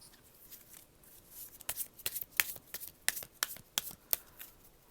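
Tarot cards being shuffled and drawn by hand, a soft rustle building into a quick series of sharp, close card flicks and slaps.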